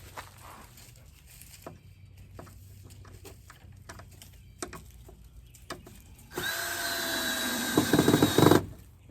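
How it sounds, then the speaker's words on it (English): A power drill drives screws into shiplap boards being installed under a deck. Scattered light taps and handling noises come first, then the drill whirs loudly and steadily for about two seconds, close by. "this is not what I would ordinarily be using to drive screws. This is a drill."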